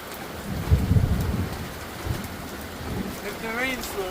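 Monsoon rain pours steadily as a low thunder rumble swells early and fades, and a voice is briefly heard near the end over the hiss of the downpour.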